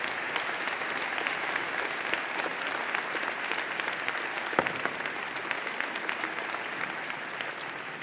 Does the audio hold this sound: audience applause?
yes